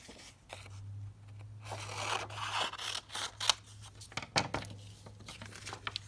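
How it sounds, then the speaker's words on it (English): Scissors snip an image out of a sheet of cardstock paper in a series of quiet, close, irregular cuts with light paper rustling and a low steady hum underneath. "cut it out of the big sheet of paper just to make my life easier"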